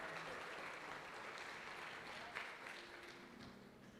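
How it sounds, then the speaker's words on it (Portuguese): A church congregation applauds during a sermon, producing a continuous, fairly faint wash of clapping that holds steady for the whole stretch, with no voices standing out. "Pode aplaudir o Senhor pela vida dele."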